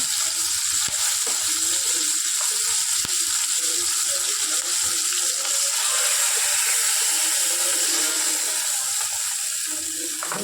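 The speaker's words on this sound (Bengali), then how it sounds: "ইলিশ মাছের মাথাটা খুব একটা বেশি লাল করে ভাজবো না, মোটামুটি ভেজে নেব।" Hilsa fish head frying in oil gives a steady, fairly loud crackling sizzle, with occasional scraping and clicking of a spatula against the pan and no voices.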